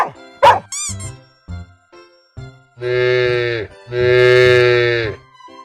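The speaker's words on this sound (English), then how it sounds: "Cow." Two long, loud animated cow moos, each sustained for about a second, following a short burst of cartoon dog barks and yips at the start.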